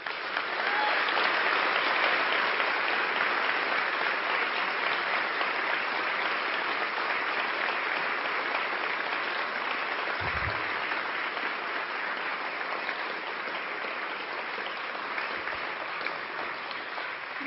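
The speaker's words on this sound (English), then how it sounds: "Please give them a round of applause." Steady applause from the audience at a public service award ceremony, even and continuous clapping for the whole stretch, slightly distant and fading a little toward the end.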